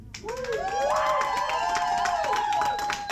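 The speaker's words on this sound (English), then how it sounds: "put your hands together if you're local, born and raised down here" Audience at a live stand-up comedy show bursts into loud, sustained applause with clapping and a few cheers and whoops, swelling quickly and holding steady for a few seconds nearby.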